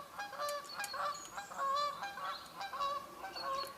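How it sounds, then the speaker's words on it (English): Geese flying in to land on water, honking repeatedly in overlapping calls from several birds, fairly close and steady throughout with no talking. "Can hear the geese coming in again"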